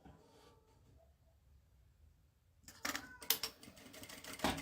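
A sewing machine starts up and runs a fast clattering stitch along the fabric edge after a quiet pause, close and fairly loud.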